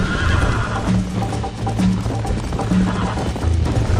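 Horse hooves pound in a quick galloping rhythm with snorting and whinnying in Red Dead Redemption, loud and continuous with a busy background.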